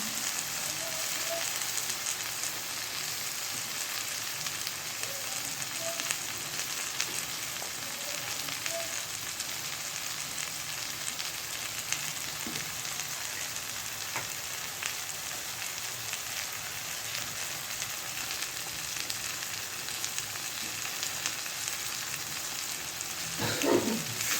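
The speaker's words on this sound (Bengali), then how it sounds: "সামান্য একটু লবণ দিয়ে দিলাম সামান্য একটু জল দিয়ে মশলাটাকে কষিয়ে নেব" Spice paste of chili powder, a little salt and a splash of water cooking down in a pan for an eggplant, potato and tengra fish curry: a steady, moderate sizzle and hiss that runs evenly throughout, with a few faint stirring scrapes.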